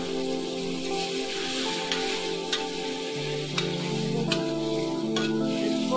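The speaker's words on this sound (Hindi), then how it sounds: "और अब इसमें डालेंगे पनीर, पनीर डाल दिया है" Paneer sizzles in a pan with turmeric, a bright crackling fry with a few sharp pops and faint tonal hum in the background, close and steady.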